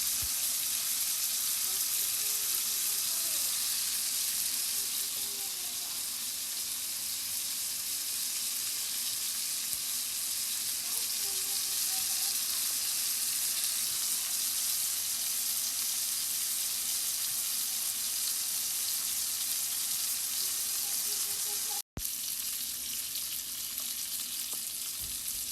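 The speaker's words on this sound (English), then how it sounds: "You see it over there just getting, yeah, sizzling up and all that good stuff." T-bone steak frying in a hot pan, a constant dense sizzle with faint crackles and pops that holds steady and fairly quiet throughout, broken only by one sharp click near the end, no voices.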